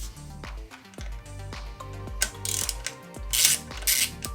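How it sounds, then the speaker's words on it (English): A ratchet clicks in quick uneven bursts as a Torx screw is worked loose from a motorcycle motor. The sharp pawl clicks are close and moderately loud, with short pauses between strokes. "So we need to remove the Torx here."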